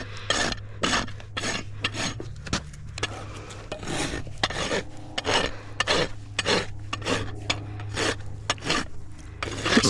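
A rasp is worked around a horse's hoof to reapply a bevel, giving a rapid series of close, loud scraping strokes in a steady back-and-forth rhythm over a low steady hum.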